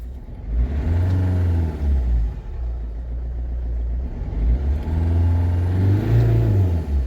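A Ford Figo engine with knocking, hunting and pickup trouble is revved twice in a garage, each surge climbing and falling back, loud and close with no talk over it.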